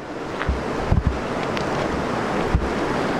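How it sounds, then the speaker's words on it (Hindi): A cold mountain river on the road to Deosai rushes steadily with a broad, continuous roar, with wind buffeting the microphone and a few soft knocks. "वो वहाँ से भी एक छोटा सा चश्मा आ रहा है, ये दरिया है जी"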